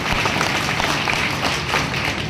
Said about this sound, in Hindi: एक बार जोरदार तालियां में पेश करने के लिए।